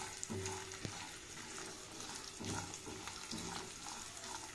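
Raw peanuts and garlic roast in a pan over medium heat, giving a soft steady sizzle with periodic stirring scrapes and clatters, close but fairly quiet, with a faint low hum in the background and no talking.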